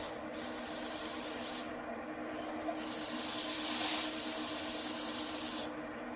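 A wooden bowl spinning on a lathe is polished with Yorkshire Grit abrasive and cloth, giving a continuous soft rubbing hiss that swells and eases in gentle waves.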